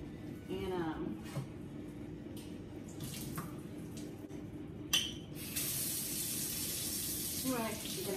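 Running tap water pours over canned black beans being rinsed, a steady splashing spray that swells partway through, while someone talks over it.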